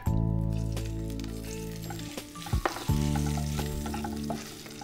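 Coconut oil sizzles loudly in a pan just used to shallow-fry mackerel, a dense crackling fry up close with a brief break and a few clattering stirs partway through.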